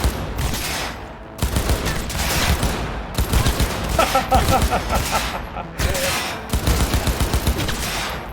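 Gunfire in the video game Cyberpunk 2077, with dense, loud bursts of automatic shots coming in repeated volleys, broken by short gaps and heavy impacts.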